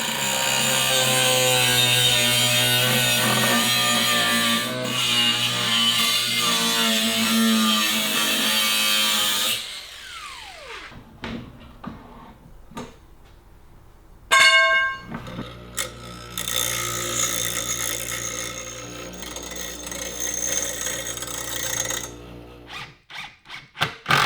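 Angle grinder making a quick cut for a shop-built compressor cart: a loud, dense, high-pitched whine runs for about ten seconds, then clanks and handling knocks follow, and a second long burst of grinding fills the second half.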